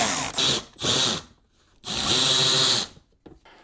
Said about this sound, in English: Really liking these new extended length high-speed ratchets.